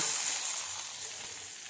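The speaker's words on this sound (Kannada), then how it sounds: "ಇದಕ್ಕೆ ಈಗ ಒಗ್ಗರಣೆಯನ್ನು ಹಾಕೋಣ." Hot tempering of spices and chopped red chilli hisses and sizzles as it is poured into a Karnataka mango curry, a close, bright crackling sizzle that slowly settles.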